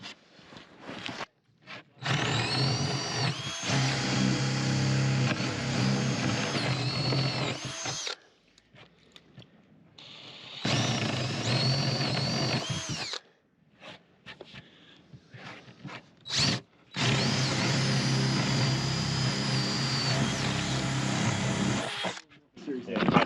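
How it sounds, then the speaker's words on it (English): A power drill bores holes through pipe during a homestead grey-water setup, running loud and close in three sustained bursts separated by short pauses and handling clatter. "We're gonna take a bigger drill and drill these out"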